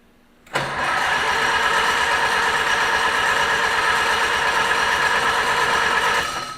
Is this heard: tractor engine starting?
yes